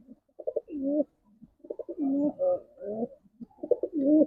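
Racing pigeons coo in several rounded, throaty bursts, close and fairly loud, with short pauses between the calls and no one talking.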